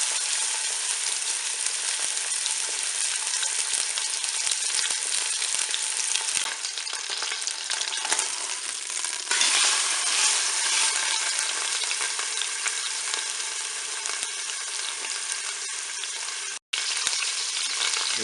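Pork loin searing in olive oil inside a preheated Cookeo multicooker pot, a steady loud hiss and crackle of frying that runs unbroken and close, with no talking.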